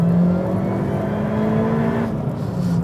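A Toyota Yaris GRMN's roughly 210-horsepower engine revving hard toward 7,000 rpm, a loud, close, steadily rising drone with a tone that climbs as it pulls, alone without talk.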